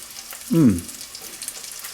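Strips of bacon crisp in a frying pan with a low, even sizzle and crackle running throughout, briefly overlapped by a short voiced sound.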